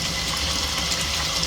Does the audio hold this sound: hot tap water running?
yes